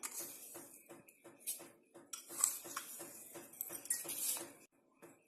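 A spoon stirring sugar into milk for rasmalai, giving quick repeated clinks and scrapes against the vessel in a steady rhythm, close and fairly quiet, with no voices.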